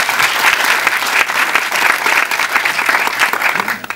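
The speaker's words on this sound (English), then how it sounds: "a round of applause for you too" An audience at the Girls to Greatness Gala claps in a loud, dense, continuous burst that holds steady for a few seconds.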